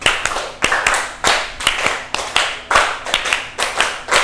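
A classroom of children claps hands together in a counted rhythm, with sharp, loud group claps falling in repeated patterned bursts and short gaps between sets.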